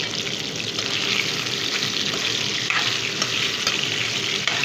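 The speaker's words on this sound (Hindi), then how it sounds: "अब इसी में मैं तेल गरम हो चुका है, उसी में मैं चिकन डाल रही हूँ" Chicken pieces hit hot oil in a karahi, setting off a loud, steady hiss of sizzling with a few faint clinks of stirring, close up and without talk.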